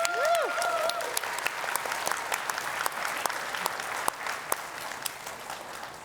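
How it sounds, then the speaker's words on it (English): Audience applause fills a conference hall at Microsoft Ignite, a steady wash of many hands clapping with a few sharper claps standing out, continuing throughout with no talk over it. "can we have a round of applause"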